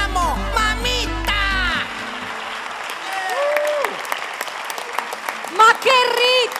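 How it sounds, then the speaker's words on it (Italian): Studio audience at an Italian TV variety show applauding loudly and steadily, with an upbeat Latin-style song fading at the start and an announcer's voice speaking over the clapping. "Un applausone al nostro Gianni Trudi, grazie!"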